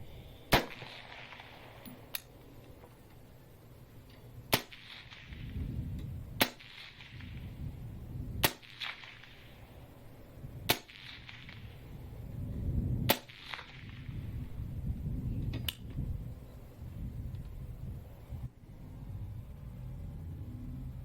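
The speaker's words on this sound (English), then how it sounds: "So that's unsuppressed. That's an AR-15." An unsuppressed AR-15 rifle fires from a distance, about eight sharp cracks spaced unevenly a couple of seconds apart, each trailed by a low rolling echo over a rumbling outdoor background.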